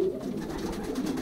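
Young pigeons cooing in a loft during the pairing season, a steady, close murmur of soft low coos overlapping continuously with no talk.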